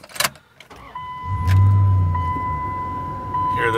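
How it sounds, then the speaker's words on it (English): A 2001 Dodge Ram 1500 pickup engine turns over and catches, settling into a low, steady idle close by, with a faint electronic tone running over it. "So let me start the truck one more time."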